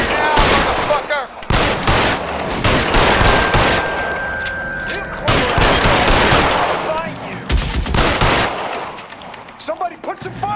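Heavy gunfire rings out during a 1940s Los Angeles police shootout in L.A. Noire, with dense, rapid bursts of shots and brief pauses. Shouted voices cut in now and then.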